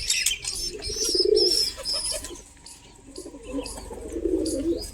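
Pigeons coo in soft, low rolling bursts close by, twice with a lull between, while chirpy bird calls and light rustling run above them.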